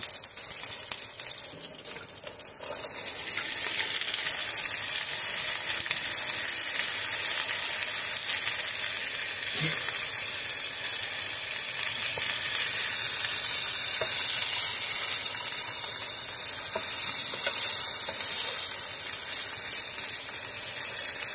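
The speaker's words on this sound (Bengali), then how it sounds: "আলুটা আমি ভালো করে নেড়ে চেড়ে ভেজে নিব" Chopped potatoes frying with onion and green chili in a pan, a steady loud sizzle that runs the whole time, with occasional stirring scrapes and no voices.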